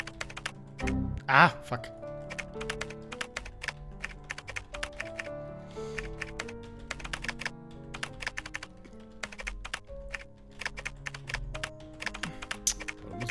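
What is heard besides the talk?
typing on a computer keyboard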